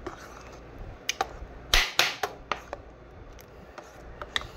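A spoon stirs banana and milk together in a dish: irregular close clinks and scrapes, a few louder knocks clustered near the middle, over a quiet background.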